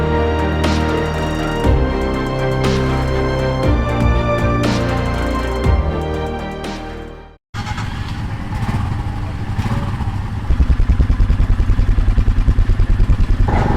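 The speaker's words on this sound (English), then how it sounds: "So all the guys are getting their bikes prepped and fired up for today's ride." Royal Enfield Himalayan motorcycles being started on a cool morning in Tibet: after a stretch of music cuts out, a close engine runs steadily, then settles into a loud, rapid, even thumping idle.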